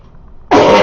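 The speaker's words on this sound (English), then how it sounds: "Sorry about that. I had a cough. I had something wedged in the throat." A single loud, close cough with throat clearing from a presenter on a local morning broadcast, bursting abruptly out of near silence and holding harsh and strong to the end.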